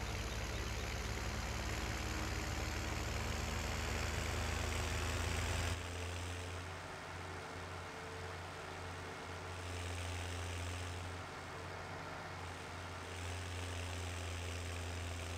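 A tractor engine drones steadily in Farming Simulator 17 on a winter map, a constant low mechanical hum that shifts tone partway through as the game's driving continues, with no voices.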